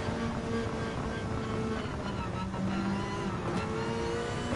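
A Subaru WRX Group 3 race car in Gran Turismo 7, racing on a wet track: a continuous, full engine drone holds steady throughout, loud and close, with no break.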